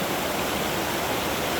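A river flowing over rocks, heard from close beside the water at sunset as a loud, dense, steady rush with no breaks and no voices.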